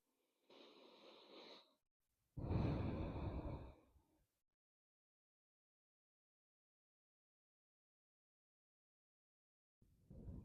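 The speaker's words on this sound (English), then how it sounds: "Taking a couple breaths here." Someone resting in child's pose during a hips and heart-opening yoga session takes two slow, audible breaths, an inhale and a longer exhale. Both are close and quiet, followed by a long silence before another breath starts.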